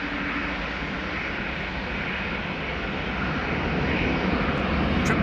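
Jet airliner departing Amsterdam Schiphol Airport, its engines a loud, steady broadband roar that builds slightly toward the end, heard up close with no talking.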